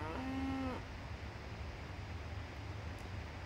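A single drawn-out moo from cattle at a cattle farm in a video game, heard once near the start, followed by a steady low ambient hum.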